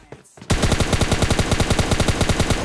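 Rapid automatic gunfire in PUBG Mobile Lite, opening after a short quiet moment and then running as a dense, loud, evenly spaced burst of shots for over two seconds without pause.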